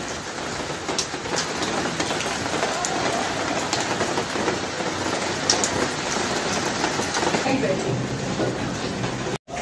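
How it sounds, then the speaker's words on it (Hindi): Steady rain pours down in Delhi, a dense, continuous hiss of drops hitting surfaces close by, holding an even level throughout before cutting off abruptly at the very end. "बारिश देख लिया हमने।"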